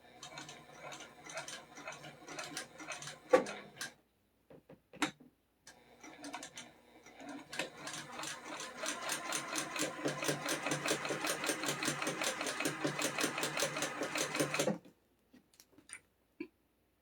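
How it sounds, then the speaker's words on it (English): An old Singer sewing machine runs in a steady, rapid mechanical chatter at close range, preceded by a few short starts and stops and tapping, then halts and falls quiet at the end. "I haven't used my old Singer in a while, so I can't even remember what it sounds like."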